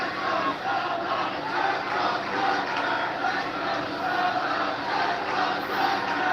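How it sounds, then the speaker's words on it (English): Arena crowd at a WWE Monday Night Raw wrestling match in Glendale, Arizona, during a Gunther bout, a loud, sustained roar of many voices swelling and chanting without pause. "Crowd is getting loud here in Glendale,"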